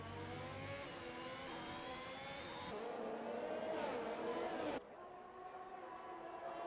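F1 race cars in the F1 2021 game at the Russian Grand Prix, engines screaming at high revs with rising and falling pitch as cars pass, loud and continuous, one car dropping away near the end.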